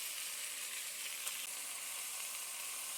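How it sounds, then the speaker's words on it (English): Food sears in a hot pan with a steady, close, dense sizzle that holds evenly throughout, with no talking. "I'm going to sear this on both sides"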